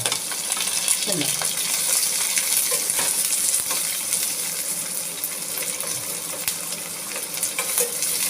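Onion and green chilli hit chickpeas frying in a pan, a steady close sizzle broken by stirring scrapes and light clinks of the spoon, with no one talking.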